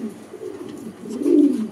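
A pigeon coos once, low and throaty, in a brief rising call that swells toward the end against a quiet background.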